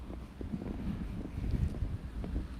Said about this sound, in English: It's a bit windy here again today at the trail.